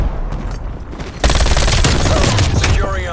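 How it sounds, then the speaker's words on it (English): Sniper and automatic gunfire crackle in a Call of Duty: Cold War match on the Nuketown Halloween map, a dense, loud fusillade of rapid shots that erupts suddenly after a quieter opening and keeps rattling to the end. "Enemy sniper shooting."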